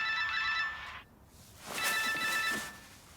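A mobile work phone rings with a repeating electronic ringtone, a burst of tones, a brief pause, then another burst, fairly close and clear with no talk over it.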